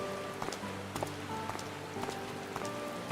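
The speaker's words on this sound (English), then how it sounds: "Raining on Halloween's Day." Rain pattering down in the Final Fantasy XIV game world, a soft, steady hiss of drops with scattered light taps over faint background tones.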